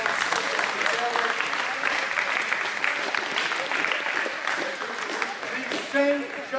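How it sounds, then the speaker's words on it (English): Audience applause for the St. John post-prom committee adults, a dense, steady roar of clapping hands that fills the whole stretch without a break, with a few shouts and cheers rising near the end. "Let's give a big round of applause to the adults sitting together."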